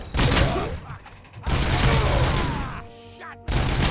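Bursts of rapid gunfire in the video game RoboCop: Rogue City, loud clustered volleys separated by short gaps and a brief mechanical clank.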